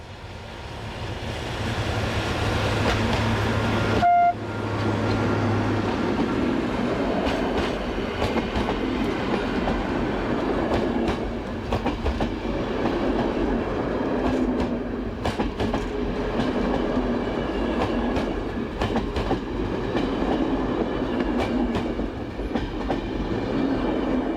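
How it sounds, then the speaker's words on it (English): A Class 445 diesel locomotive approaches Turio heading the overnight train from Torino on a single-track line, a steady engine rumble with rolling wheel noise and intermittent clicks from the rails. "a Class 445 diesel approaches Turio whilst heading the overnight train from Torino"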